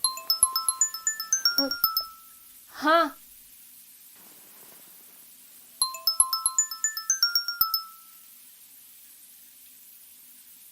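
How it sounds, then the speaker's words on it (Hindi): A mobile phone ringtone plays a bright, stepping electronic melody in two separate bursts, with a woman's short spoken reply in the gap between them. "मेरा फोन आ रहा है यार, देखना किसका है।"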